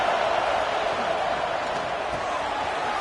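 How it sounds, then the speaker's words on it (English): Roaring stadium crowd in a football video game, a dense, steady wall of cheering noise that stays loud and unbroken throughout with no gaps. "listen to this crowd noise. This stadium is vibrating."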